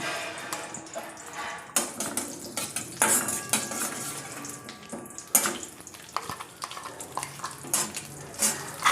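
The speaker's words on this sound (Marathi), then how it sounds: "आता हे मसाला कमी गॅसवरच तळून घ्यायचा" Masala paste frying in oil with cumin in a pan on low heat, a soft sizzle under repeated clinks and scrapes of a spoon against the pan.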